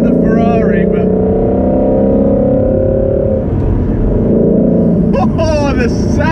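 Ford Shelby GT350 engine droning loudly from inside the cabin while driving in Las Vegas, a steady low rumble with speech heard over it at the start and end.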